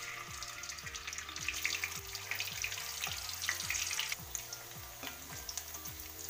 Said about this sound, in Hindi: इसमें हम रिफाइंड ऑयल लिए हैं और ये पनीर को हम फ्राई कर लेंगे